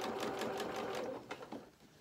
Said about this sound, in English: Then we're going to sew over the top of these gathered bits of fabric.